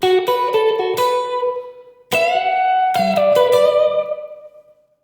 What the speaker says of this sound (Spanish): Reverb de muelles.